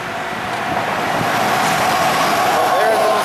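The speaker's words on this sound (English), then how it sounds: "I don't even know if you can hear me with all this traffic." Steady, loud roadway traffic roar along a city route beside the Missouri River, with a broad continuous rush of passing cars and trucks filling the scene, dense and close throughout.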